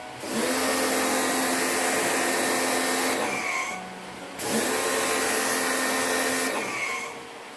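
A pressure washer spray gun blasts water onto a Panasonic air conditioner during cleaning. Two long, loud, broadband hissing bursts are separated by a short pause, and the jet is close and harsh.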